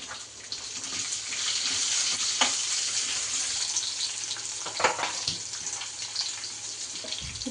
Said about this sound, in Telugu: ఇప్పుడు ఆనియన్స్ వేస్తున్నాం